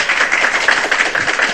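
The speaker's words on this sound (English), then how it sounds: "if you want to clap" A small audience at a university web conference session claps, a loud, close, continuous patter of hands with no distinct rhythm across the brief moment.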